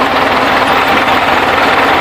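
A Ford tractor engine runs steadily with a rotary tiller spinning at the rear, giving a loud, continuous droning hum close by with no talk over it.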